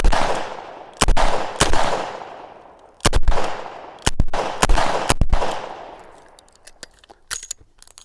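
Smith & Wesson 627 Performance Center revolver fired at a range, about eight loud sharp shots in uneven pairs and singles, each with a booming decaying echo, followed by faint clicks and handling noise.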